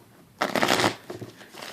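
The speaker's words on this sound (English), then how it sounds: "If I can get my deck to shuffle right." Rider-Waite tarot deck being shuffled, a burst of riffling card flutter up close lasting about half a second, followed by softer intermittent card slides and taps.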